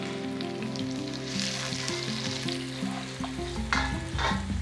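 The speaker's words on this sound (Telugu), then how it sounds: "కొంచెం పచ్చిమిర్చి, కొద్దిగా టమాటా. ఇవి కొంచెం పచ్చి వాసన పోయేదాకా కొంచెం ఫ్రై చేసుకోవాలి" Green chillies and tomato frying in an oil-filled pan for chicken keema, a steady close sizzle with crackling spits and occasional stirring scrapes, no voices.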